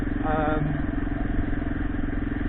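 A Yamaha XT600 E motorcycle hums steadily while ridden on the road, with a continuous close engine drone throughout and no clear talk over it.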